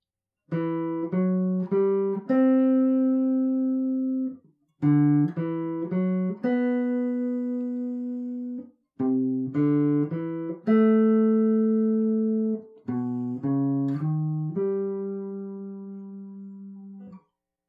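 A solo guitar plays the opening melody of a song: short ascending note runs, each phrase ending on a sustained ringing note, repeated in four clear phrases with brief pauses.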